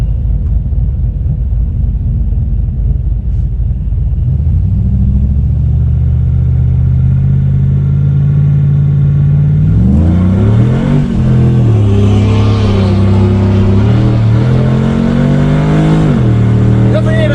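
A drag car launches hard down the strip at Speed World Orlando, its engine climbing from a deep rumble into a loud rising roar as the tires spin, the note wavering and surging close and powerful.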